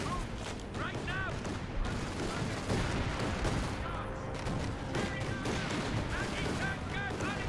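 A sustained artillery barrage in Company of Heroes 2, with repeated distant booms and crackling gunfire under a busy battle mix, while voices talk over it.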